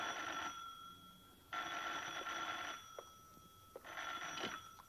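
An old landline telephone bell rings in an Italian village home in 1961, three bursts of ringing with short pauses between them, clear and fairly close in a quiet room.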